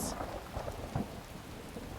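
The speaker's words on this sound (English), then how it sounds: "it is thundering and lightning out" A thunderstorm on a pitch-black night in Skyrim gives a steady wash of heavy rain with low, rumbling thunder underneath, constant and dense through the whole stretch.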